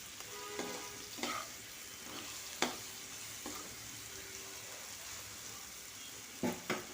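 Cumin paste sizzles in a pan of well-fried masala for a hilsa fish curry with eggplant and potato, a steady close hiss broken by a few sharp scraping stirs, with no voices.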